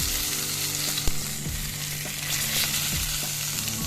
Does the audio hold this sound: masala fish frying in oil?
yes